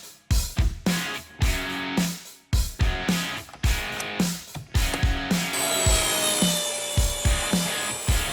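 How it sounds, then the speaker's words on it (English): Handsaw cutting a square hole in 10 by 10 plywood for a jig, with repeated close back-and-forth strokes in a steady rhythm and no talk. "We're gonna cut a square hole in there that friction fits over the knob end."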